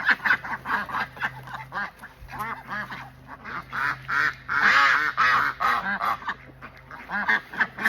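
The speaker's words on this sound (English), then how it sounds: "If anybody else has ducks, all they do is that." Several ducks quack loudly and continuously close by at a homestead, overlapping honking calls rising and falling in a busy, nosy chorus with no talk.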